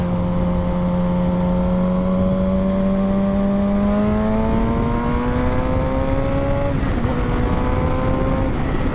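A modified Suzuki GSX-R 750 motorcycle accelerates through the gears, its loud, close engine whine climbing steadily in pitch, dropping at a shift, then rising again over heavy wind rush.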